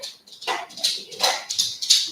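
A pet dog whimpers and yips indoors by a door, giving several short, high, fairly close cries in a steady rhythm with no talk over them.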